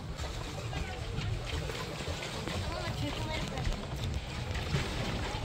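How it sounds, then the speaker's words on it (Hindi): A rowing boat moves on Sattal lake with soft water splashes and rushing sounds over a steady rumble of wind and ambient noise. The sound is moderate and continuous. "काम तो बहुत मेहनत का है, इसको बोट को चलाना इतना आसान नहीं है।"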